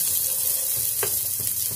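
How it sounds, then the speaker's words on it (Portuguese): Sausage and bacon frying in a pan for a Sunday mocotó lunch give a steady, close hiss of sizzling fat, with a brief stir or utensil scrape partway through and no voices. "Vamos fritar aquela linguicinha e aquele bacon que eu reservei de ontem."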